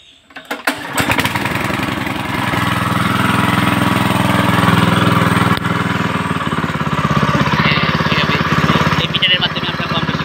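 A petrol-powered water pump engine is pull-cord started, catching after a brief rattle and settling into a loud, steady, close chugging drone, with a voice talking over it.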